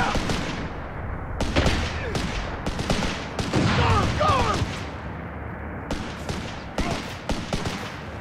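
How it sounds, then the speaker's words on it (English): Sustained video-game gunfire from Company of Heroes 3, with a dense fusillade of rifle and machine-gun bursts and sharp reports, including a rifle grenade launch and impact, loud and continuous, with a shouted voice over the battle. "Rifle grenade! Fire!"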